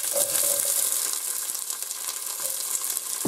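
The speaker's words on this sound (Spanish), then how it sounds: "Ya está caliente y ahora echamos la cebolla." Chopped onion sizzling loudly in hot oil as a base for a squash and sweet potato soup, a dense, continuous frying hiss with a few soft clicks, alone and close.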